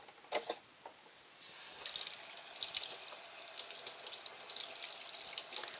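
Running tap water splashes over a block of firm tofu in a kitchen sink, a quiet, uneven trickle and splatter with short drips at first, then a steadier stream.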